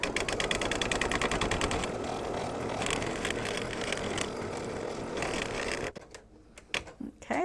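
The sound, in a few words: embroidery machine stitching down background fabric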